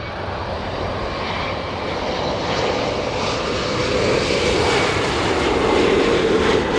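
An airliner taking off at LAX airport, its jet engines roaring in a loud, steady rush that slowly builds in strength.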